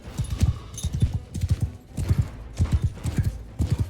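Horses gallop in Mount & Blade 2: Bannerlord, their hooves drumming in repeated rapid clip-clop bursts, close and fairly loud, with brief gaps between the runs.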